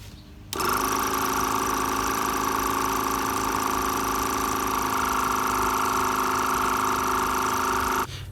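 A portable tire inflator plugged into a BMW pumps air into a tire. It starts abruptly after a brief pause and keeps up a steady, close buzzing drone at an even level until it stops near the end.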